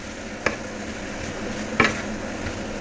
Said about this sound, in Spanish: Después de salpimentar, removemos un poquito